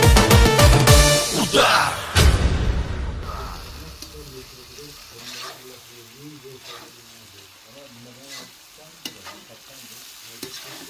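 Food fries and sizzles in a pan, loud and crackling at first with stirring clatter, then settling into a steady softer sizzle while voices talk over it.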